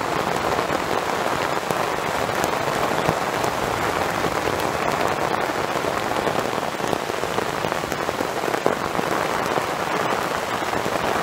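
Torrential monsoon downpour drums on a military poncho shelter at a campsite, a dense, continuous patter of heavy drops with sharper splats scattered throughout, loud and close with no break.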